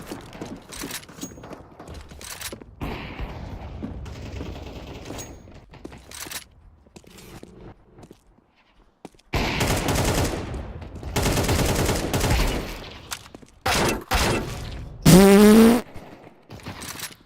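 Video game gunfire crackles in scattered bursts, with quiet stretches of faint mechanical clatter between them. Loud sustained volleys come in the second half, along with a brief tonal game effect near the end.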